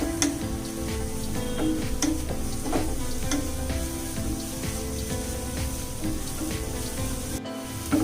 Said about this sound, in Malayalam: നമുക്ക് ഈ ഒരു ഓണിയൻ നല്ലപോലെ ഒന്ന് മൂത്ത് വരുന്ന പോലെ ഒന്ന് ഇളക്കി കൊടുക്കാം